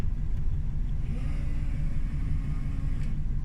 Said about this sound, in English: You can hear the motor running.